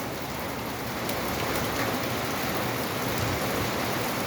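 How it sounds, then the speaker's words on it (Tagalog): Heavy rain pours down steadily in a continuous dense hiss of drops on surfaces, unbroken and fairly loud with no voices. "Grabe mga par, ang lakas ng ulan"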